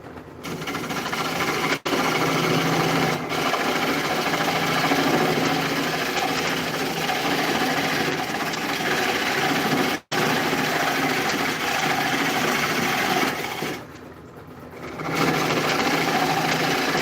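A wood lathe spins a piece of Bradford pear wood with a steady, even hum and whir, as a tool scrapes along it with faint shifting textures and brief breaks in the drone.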